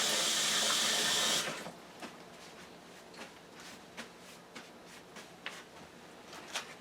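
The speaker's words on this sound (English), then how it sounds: "Now I'm going to wash my hands" Tap water runs into a sink during handwashing while pork tenderloin is being seasoned for an air fryer, a loud steady rush for the first second and a half, then stopping, followed by faint scattered splashes and drips.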